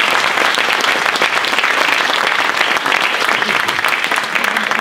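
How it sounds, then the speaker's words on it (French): An audience at a sustainable tourism forum in Mios applauds, a sustained, even wash of many hands clapping together, close and loud throughout. "Je pense qu'on peut l'applaudir parce que c'était passionnant."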